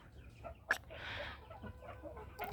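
Faverolles chickens cluck softly nearby, with a sharp squawk and a brief drawn-out call from a young rooster among a few quieter hen murmurs.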